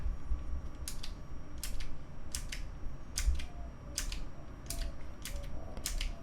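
Purple clicky switches on an optical mechanical keyboard with PBT keycaps, pressed repeatedly so that crisp paired clicks land at a steady rhythm, close up and quiet.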